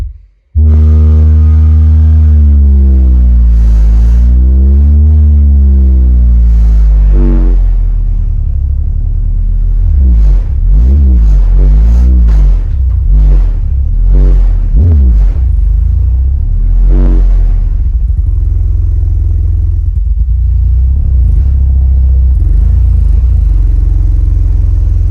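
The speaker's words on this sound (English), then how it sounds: "All right, let's pump the woofer test." Subwoofer bass test tones played through a SoundQubed U-series amplifier, deep booming low notes that sweep, pulse and warble for the whole span, very loud and heard alone.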